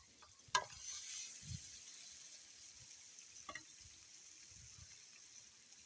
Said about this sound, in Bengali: এবং এর ভিতরে দিয়ে দেবো ভাজার রোস্টগুলো